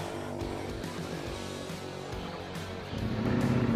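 A Ducati V4 Pikes Peak motorcycle engine rumbles low and fairly faint at idle, then its level swells in the last second as the revs rise.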